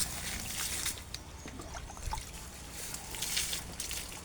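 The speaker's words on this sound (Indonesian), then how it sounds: "Kita siramkan di bonggolnya yang kena penyakit dan sekitar bonggol kita siram." Watering solution trickles and splashes onto the base of a banana plant diseased with fusarium wilt, a soft steady pour under outdoor background hiss.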